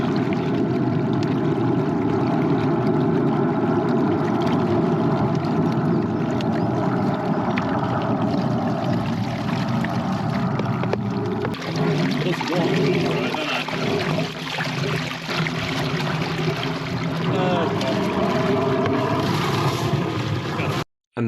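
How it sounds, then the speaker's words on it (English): A high-pressure water jet blasts through a grease-blocked drain's upstream branch beneath a gully, making a loud, continuous rushing roar with a droning pump underneath that runs unbroken for about twenty seconds before cutting off abruptly. "we end up jetting the upstream branch and there's plenty of grease that comes down."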